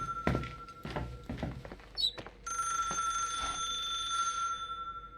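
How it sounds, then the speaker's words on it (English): A telephone bell rings inside a building in the video game The Suicide of Rachel Foster, a steady sustained ringing tone after a few footsteps and thuds, loud and continuous for the latter half. "Why is there a telephone ringing?"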